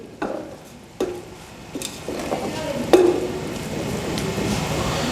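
Ground spices, including coriander and turmeric, are stirred into beef qeema in a hot pan, with a few sharp scraping knocks of the spoon over a steady sizzle.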